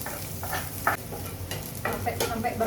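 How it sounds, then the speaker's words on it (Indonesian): Garlic sautéing with cumin seeds in a hot pan gives a steady close sizzle, broken by scraping stirring strokes and short crackling bursts throughout. "Setelah jintannya agak sedikit coklat-coklat, baru kita masukin si bawang putih"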